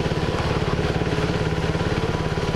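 KTM Duke motorcycle engine running as it warms up, a loud close steady pulsing rumble with a fast even rhythm throughout.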